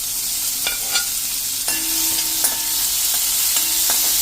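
Chopped tomato drops into hot oil with crackled ginger and garlic, giving a loud, steady close-up sizzle with a few stirring scrapes and faint thin tones riding over it, and no talking.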